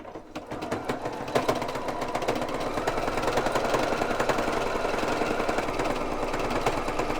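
A sewing machine stitches a wiggly zigzag pattern with twin needles at 3.5 width, a steady fast mechanical whir and clatter running continuously and fairly close, with no voices.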